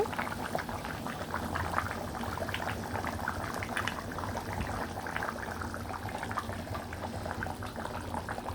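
Mutton curry boils steadily in a pot on the stove over high heat, a close, continuous bubbling and sputtering with no one talking.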